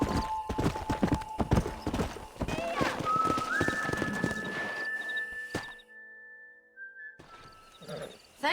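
Horse hooves clattering in the Western game Red Dead Redemption, a rapid galloping clip-clop with thuds and a whistle-like tone, easing off before a near-silent pause and a brief return of movement.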